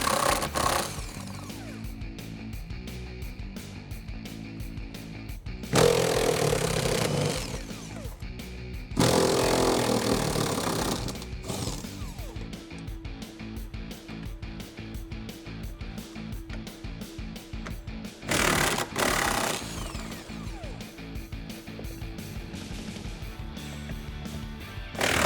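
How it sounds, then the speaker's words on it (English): Impact gun with an 18mm socket removing bolts from the rear seat of a 2018 Jeep Wrangler JL four-door, several loud buzzing rattling bursts separated by quieter handling noise, close up. "we're gonna go ahead and get this one out of the way with our 18mm socket still on our impact gun"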